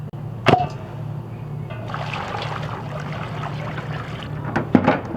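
Water splashes and trickles as a lamb's head and feet are washed, with a couple of sharp knocks from handling and a low background hum, close and fairly quiet.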